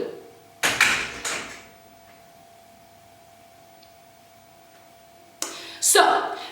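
An indoor door is handled in two short bursts: a clunk and rattle near the start, then quiet, then another bump and latch near the end, close by with a faint steady hum.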